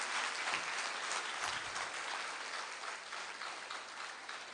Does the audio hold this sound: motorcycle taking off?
no